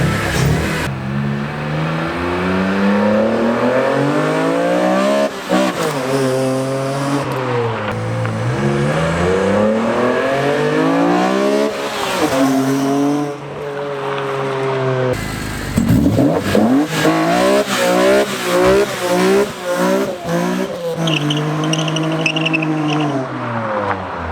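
BMW E46 M3 fitted with PSDesigns velocity stacks revs hard and accelerates past, its engine note rising and falling through repeated gear pulls, loud and close throughout, with a brief lift and a second surge partway through.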